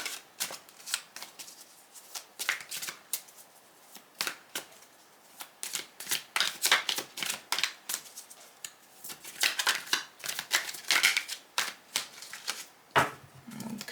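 Tarot cards being shuffled and cut at close range, a steady run of crisp riffling and slapping bursts with short pauses, ending in a sharper cut and tap.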